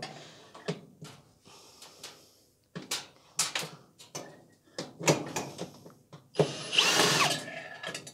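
Power drill with a 7mm hex bit backing screws out of a clothes dryer cabinet (Simpson/Electrolux/Westinghouse), heard as short whirring bursts mixed with clicks, ratcheting and metallic knocks, close and fairly loud, with no talk.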